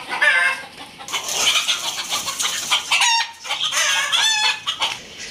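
A pet rooster crows and clucks close by, a loud strained cock-a-doodle call followed by quicker clucking bursts and a second crow, with no talk over it.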